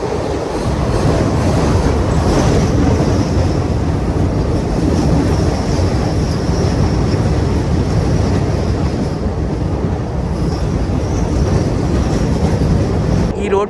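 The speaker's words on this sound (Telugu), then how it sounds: "రోడ్ కమ్ రైల్వే బ్రిడ్జ్లోకి ఎంటర్ అయ్యే ముందు మన ట్రైన్ అయితే ఒక బ్యూటిఫుల్ టర్నింగ్ అయితే తీసుకుంటుంది చూడండి" Simhadri Express passenger train running steadily toward a road-cum-rail bridge, a loud continuous rumble of wheels and carriages heard from on board with no break throughout.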